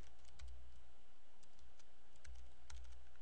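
Typing on a computer keyboard to enter a name, a steady run of close, crisp key clicks with a few heavier thumps, no voices.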